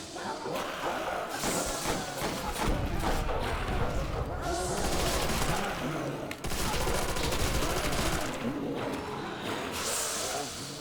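Grenade explosions and rapid gunfire from a video game fill the stretch with dense, continuous loud bursts and thuds, with a voice talking faintly beneath the barrage.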